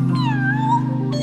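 A voice imitates a cat with one drawn-out, wavering meow during an online music lesson, clear and close over a steady low background hum.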